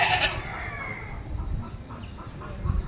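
A female Boer goat bleats faintly in a brief, quiet farm setting. A short cry is heard near the start, over low background rustle.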